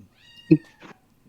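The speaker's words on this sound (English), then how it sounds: "so if you hear meowing, leave it alone" A cat gives a single short, clear meow up close, followed by a softer second sound, in a quiet room.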